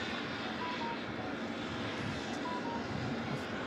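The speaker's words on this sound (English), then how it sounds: "Jetstar 799 is about to pop it in on 27" A Jetstar airliner arriving from the Sunshine Coast lands on runway 27 at Melbourne Airport, a steady broadband engine roar that stays loud and constant with no pauses.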